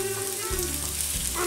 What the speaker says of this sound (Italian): Facciamo rosolare 5 minuti per parte più o meno.